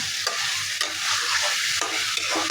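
Fish frying in oil in a pan, a steady loud sizzle with brief stirring scrapes breaking through, close and alone.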